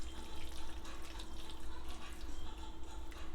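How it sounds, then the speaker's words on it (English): Water poured from a tap into a pot of Southern-style chicken and giblet dressing, a steady close splashing and trickling with a faint hum underneath, with no talking. "Put a little bit more water."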